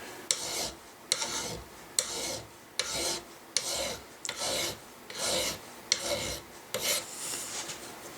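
A metal ramrod thimble for a gun is filed by hand in a gunsmith's shop, with about nine even rasping strokes in a steady rhythm, each a close, gritty scrape followed by a short pause.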